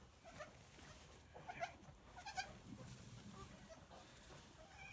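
A baby goat on a farm bleats in a few short, high, faint cries amid low rustling and background noise, with no talking.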